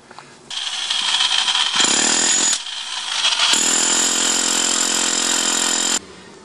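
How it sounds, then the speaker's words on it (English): A power drill fitted with a chisel bit hammers into a concrete garage floor slab during radon mitigation work, loud rapid pounding in two bursts separated by a short pause, close and alone with no talk. "switch over to the chisel bit now and break out that plug we drilled"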